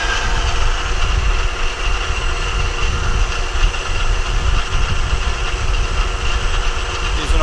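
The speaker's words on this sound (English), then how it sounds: "Using a 1-inch 2 carbide cutter here" CNC machine cutting with a 1-inch carbide cutter while building a fire pit cover and log grate, a loud steady mechanical drone with continuous vibrating grind throughout.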